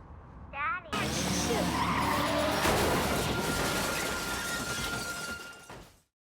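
A car skids and then crashes in a film scene where a distracted detective loses control while driving; a brief voice-like sound comes first, followed by a loud, sustained burst of screeching, smashing and shattering noise that fades out near the end.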